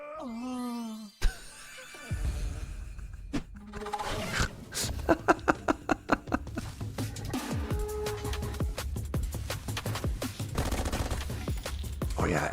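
Rapid bursts of submachine gun fire ring out in a video game trailer with game music, including a sharp run of evenly spaced shots midway, loud and close over a dense, busy mix.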